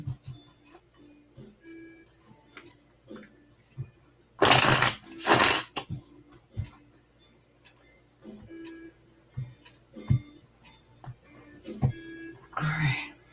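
Tarot cards shuffled by hand at close range, a couple of loud riffling bursts mid-way amid quieter handling and taps, with a voice talking around them.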